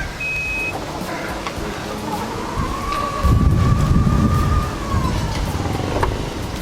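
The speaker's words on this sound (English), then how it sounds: "press the same button, the key fob, and it should close the trunk" The power liftgate of a Mazda CX-9 AWD Signature Edition, triggered by the key fob, begins with a short beep, then a motor whirs for a second or two as the tailgate closes outdoors amid light wind noise.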